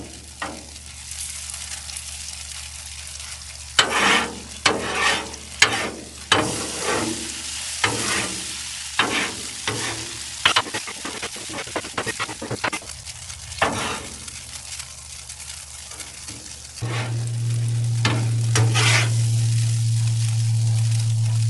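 Cherries jubilee sauce reducing on a Blackstone griddle, a steady sizzle broken by repeated scraping and stirring strokes, then a louder, continuous hiss near the end.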